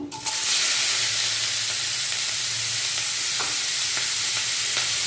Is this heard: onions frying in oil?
yes